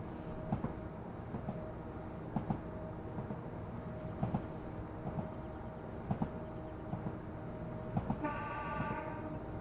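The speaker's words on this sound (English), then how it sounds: "Who decided that that was the perfect sound for a horn?" A Pacer train's horn sounds in the Japan route of Train Simulator 2021: a short, bright, stacked tonal blast near the end, over steady rail rumble and rhythmic wheel clicks.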